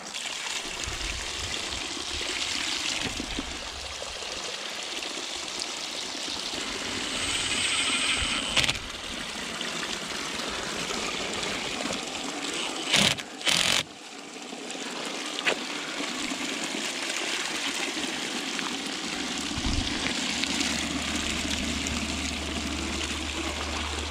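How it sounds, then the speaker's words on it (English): Water from a barrel outlet running through a low-head turbine on a single length of pipe, a steady trickling, pouring flow throughout with a few brief knocks and bumps, close and continuous. "I'm installing the turbine on the barrel outlet with only one stick of pipe just to see what it does."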